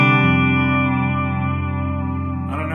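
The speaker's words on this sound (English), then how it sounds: "the bridge pickup especially sounds totally warm and full without being thin or shrill or high-endy." Stratocaster electric guitar with Virgil Arlo 1954 pickups, the bridge pickup through echo and chorus effects, ringing out a sustained chord that fades slowly before a brief new strum at the end.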